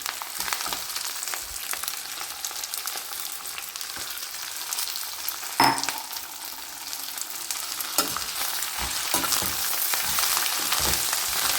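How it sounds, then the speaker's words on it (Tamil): Steady, busy sizzling and crackling of curry leaves frying in hot oil, with occasional sharper pops and a stirring clatter partway through. "நல்லா படபடபடன்னு பொரியிற சத்தம் கேட்கும்"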